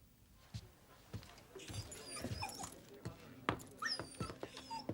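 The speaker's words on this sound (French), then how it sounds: "Ils ont un chien. Un fox terrier, peut-être bien?" A small fox terrier whimpers and yips in short, high-pitched bursts, fairly close, with scattered thumps and faint background noise.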